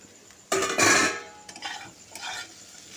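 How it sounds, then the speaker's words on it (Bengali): Capsicum and fried vegetables are tossed with a utensil in a pan for restaurant-style mixed chow mein, a loud scraping clatter up close followed by softer stirring scrapes with faint sizzle. "ক্যাপসিকামটা দিয়ে নাড়াচাড়া করেই আমি কি করব"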